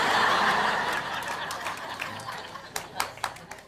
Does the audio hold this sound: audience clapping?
yes